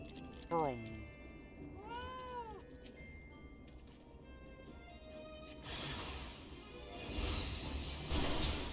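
Cat in Final Fantasy XIV meowing several times, short rising and falling calls early on, followed by rustling and clattering noise, with a person talking quietly underneath.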